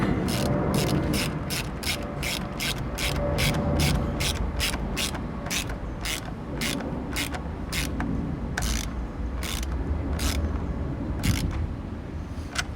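A hand ratchet tightening an intake fitting on a 2008 Hyundai Tiburon, giving a steady series of sharp clicking strokes close up, speeding and slowing over constant background noise.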